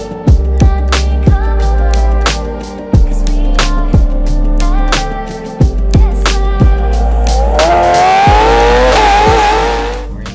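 A modified Ferrari 488 Pista with race exhaust roars through repeated gear shifts, each marked by sharp exhaust cracks, then climbs into a high, screaming rev near the end.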